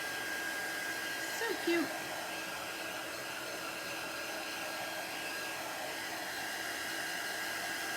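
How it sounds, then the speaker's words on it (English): A handheld heat tool blows steadily to dry a chalk transfer for a craft project, a constant airy whir lasting throughout, with a brief spoken remark near the start. "So if you're using a heat tool like this one, you want to keep it moving because it can actually boil your chalk."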